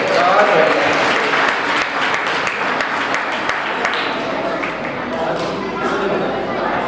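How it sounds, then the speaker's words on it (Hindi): Audience applause at a closing ceremony of a moral education camp, a dense, steady clapping crowd filling the whole stretch at even loudness, with voices mixed into it. "ताली चाहिए जोर से।"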